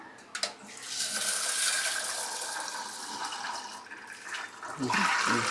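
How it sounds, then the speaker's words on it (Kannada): Lentils are rinsed in a bowl of water for a South Indian drumstick curry, with steady running water and splashing close by, then sloshing as the lentils are swirled. "ಇದು ತೊಳ್ಕೊಬೇಕೀಗ. ತೊಳ್ಕೊಂಡು ನೀರೊಳಗೆ ಹಾಕೊಳ್ಳೋಣ."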